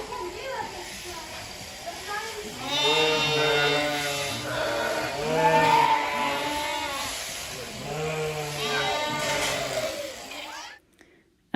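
Freshly shorn sheep and lambs bleating in a group, several overlapping calls in loud, repeated bursts close by, with a steady background hum; the calling fades out near the end.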